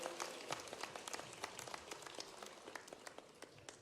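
Audience applause at a Madhya Pradesh Foundation Day award ceremony, heard as steady, fairly distant clapping from a crowd lasting several seconds with no speech over it.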